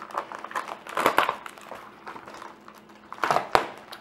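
Bubble wrap crinkles and crackles as it is pulled off a blue JDM steering wheel emblem, a few bursts of close, dry rustling with a sharp pop near the end.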